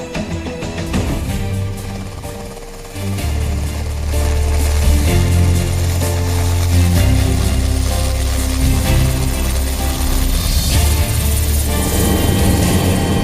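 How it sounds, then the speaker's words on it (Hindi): A Kamov 226T light helicopter runs loud and close throughout, its rotor and engine making a dense, continuous roar with a rhythmic thrum and no speech. "कोमोव 226T हेलीकॉप्टर बहुत ही ताकतवर और हल्के हैं"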